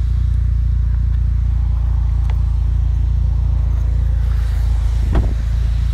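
Mitsubishi Outlander Turbo (Airtrek Turbo) on the move, its engine giving a loud, steady low rumble from inside the cabin, with a faint tick or two over the continuous drone and no talking.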